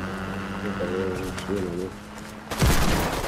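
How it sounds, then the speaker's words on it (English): A voice speaks briefly over Fortnite game audio, then a sudden loud burst of gunfire erupts near the end. "I hear gunshots."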